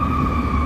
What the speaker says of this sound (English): So there's your Thursday morning wake-up call from Chicago, deafening sirens on a Thursday.